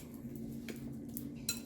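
Eggs being mixed in a bowl for a mochi cake, with a few quick clinks and scrapes of utensil against the bowl over a faint steady hum, one brighter clink near the end.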